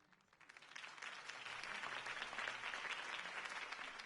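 A large crowd applauding steadily after a speech in the video game Batman: The Telltale Series, dense clapping that swells in over the first second and then holds at a loud, even level.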